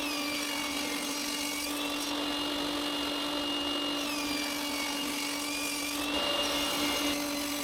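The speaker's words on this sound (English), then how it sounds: "I continue by cutting a piece of mahogany and a piece of plane tree into 1 centimeter thick slices" A power tool cuts mahogany and plane tree wood into 1 cm thick slices for a napkin holder, giving a steady, high, continuous whine that barely changes and runs close and unbroken. No one speaks.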